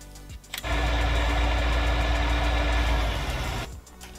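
A Deutz tractor engine in Farming Simulator 19 starts with a short cough, then settles into a steady low, rumbling idle for about three seconds before cutting off.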